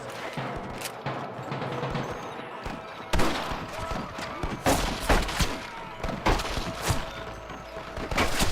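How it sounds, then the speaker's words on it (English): Gunfire in the video game Red Dead Redemption, with scattered shots and sharp impacts popping over a busy background, some louder bursts close and others distant. "I can hear more gunshots."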